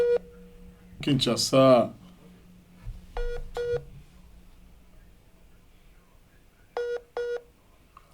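Telephone call from Kinshasa dropping on a poor network, with bursts of dial tones and busy signal beeps in short paired pulses, a brief voice in between.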